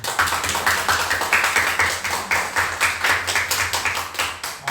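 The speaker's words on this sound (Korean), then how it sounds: "우리 박수로 격려하고 우리 위로하겠습니다" Congregation in a Sunday church service clapping in welcome and encouragement, a steady rhythmic patter of many hands with a low hum beneath, moderately loud and without talk.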